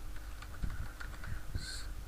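Computer keyboard keys tapped in a short burst while entering a package name, a handful of soft clicks close by over a low room hum.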